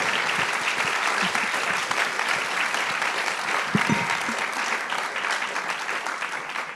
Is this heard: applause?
yes